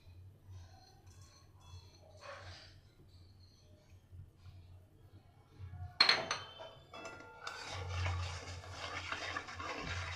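Turmeric, sugar, salt and Kashmiri and red chilli powders stirred together in a pan, heard as faint clinks and a sharper scrape partway through, then a steady low frying hiss with light scraping to the end.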